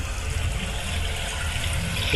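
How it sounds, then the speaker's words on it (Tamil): Steady running or flowing water in the horror video game Very Little Nightmares, a continuous moderate wash of sound with no talk. "இங்கே ஏதோ தண்ணி சவுண்டு கேட்குது"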